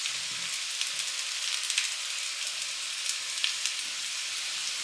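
Potato slices sizzle as they roast in a pan, a continuous crackling hiss at moderate loudness with scattered sharper pops and no voices.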